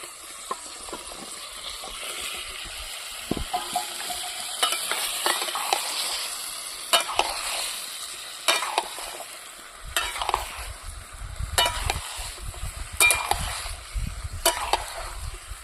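Bottle gourd pieces tipped into spices frying in a pan, followed by a steady sizzle with repeated scraping stirs and clinks of a spoon against the pan.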